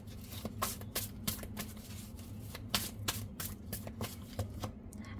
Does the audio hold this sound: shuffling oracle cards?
yes